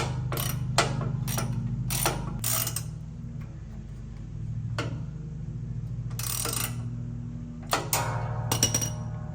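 Ratchet wrench tightening a fastener on a racing lawn mower during a build, heard as bursts of quick clicking strokes repeated several times over a steady low mechanical hum, close and fairly loud.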